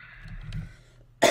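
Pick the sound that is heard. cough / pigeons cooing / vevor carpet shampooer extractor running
cough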